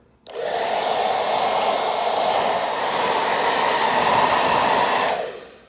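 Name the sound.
hair dryer blowing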